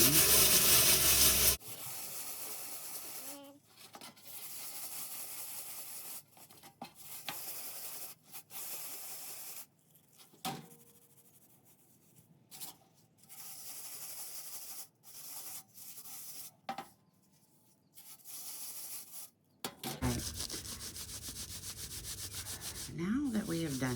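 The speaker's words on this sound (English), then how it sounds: "the first thing we're gonna do is just rub them on the bottom of your pan" Dry carrot seed heads rubbed by hand against the bottom of a pan, a close scratchy sanding rasp coming in repeated strokes of varying length with brief pauses between.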